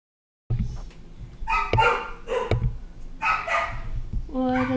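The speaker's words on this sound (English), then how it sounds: "Those dogs are so loud" Several dogs bark loudly and repeatedly in uneven bursts, with some yips mixed in and a steady background noise underneath; a brief whine-like tone closes the stretch.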